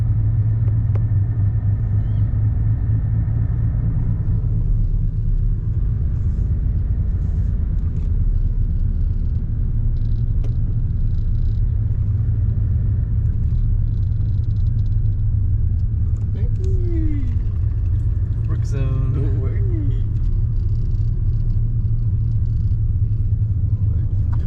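A car drives through the suburban streets of Royal Oak, Michigan, heard from inside as a loud, continuous low engine and road rumble that holds steady throughout.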